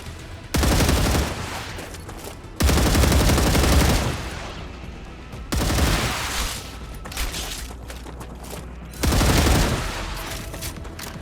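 Sci-fi automatic weapon fire in the video game StarRupture, with heavy recoil: four loud sustained bursts of rapid gunfire separated by short pauses.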